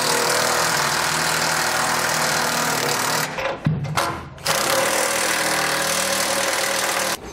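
A power tool with a 3/4 inch socket tightens bolts on a Demco Autoslide fifth wheel hitch mount for a Ford F150. It whirs loudly and steadily, cuts out briefly mid-clip with a few clunks, then resumes.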